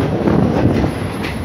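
An SRT Red Line electric commuter train climbs onto the elevated track toward the new Rangsit station, giving a steady, loud rumble of wheels and rail with no pauses.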